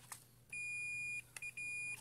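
Continuity-mode beeper of a Fluke 115 multimeter: a short blip, then a sustained high electronic tone, a brief break with a click, and the tone resumes in two more stretches, close and fairly quiet.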